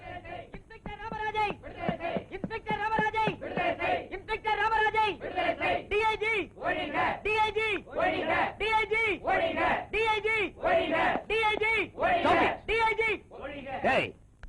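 A crowd shouting slogans in rhythmic chanted bursts, many voices calling together in a repeated pattern of loud phrases with brief gaps between them, sustained throughout.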